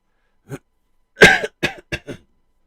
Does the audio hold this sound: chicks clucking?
no